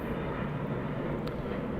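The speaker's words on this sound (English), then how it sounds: "Sorry about that plane" An airplane flies low overhead near an airport beside a co-working space, a steady broad engine roar that is loud and continuous throughout, with no talk.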